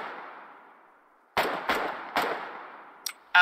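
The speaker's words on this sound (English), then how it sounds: "Will this MG nest stop shooting at me" A machine gun nest firing in the war game Foxhole, heard as four sharp, loud bursts of gunfire with short reverberant tails, spread over about two seconds after a quiet lull.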